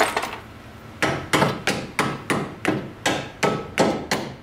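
A hammer strikes a metal bushing about ten times in a steady rhythm, each blow sharp and ringing, close by with no talking, during Ford Focus ball joint and control arm replacement.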